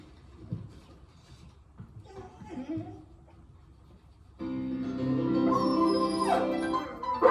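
A dog whimpers and yips softly, then music starts and a drawn-out howling rises over it, wavering in pitch.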